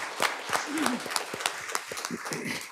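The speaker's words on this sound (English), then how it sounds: "That's worth clapping for" A room full of people applauds at a meeting, a steady patter of clapping with scattered individual claps while a voice talks over it.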